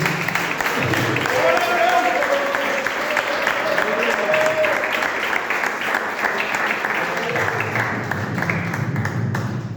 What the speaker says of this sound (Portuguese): Bate palma da glória a Deus